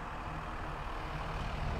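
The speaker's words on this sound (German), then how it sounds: "Kommt gerade ein Auto," A car or heavier road vehicle passes outside, a steady low engine rumble holding at an even level for the whole moment with no talk over it.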